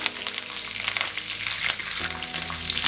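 Cumin, pepper, curry leaves and four garlic cloves crackle and sizzle in hot oil, a steady close frying hiss with sharp pops and spatters throughout, alone without talk.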